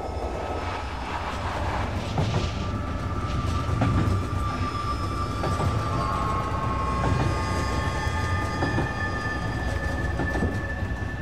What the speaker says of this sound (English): Natia, who followed the train as it rumbled across the Siberian landscape.